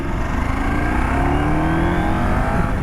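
A 2023 Husqvarna Norden 901 adventure motorcycle's twin-cylinder engine revs loud and close, a continuous rising drone with a rough, throbbing texture and no speech.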